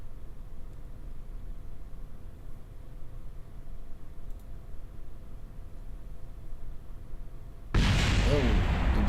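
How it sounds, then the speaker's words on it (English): A jettisoned heat shield in Kerbal Space Program slams into the ground with a sudden loud explosive burst near the end, following a long stretch of steady low rumbling wind-like noise. "You're going to hear an explosion when it hits."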